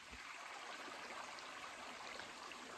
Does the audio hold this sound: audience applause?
no